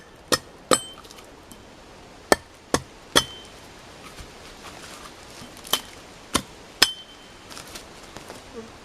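Axe or hatchet blows knocking knots off pieces of log at a forest campfire: about a dozen sharp, separate woody strikes at irregular intervals, close and fairly loud, with quieter taps between and no talking.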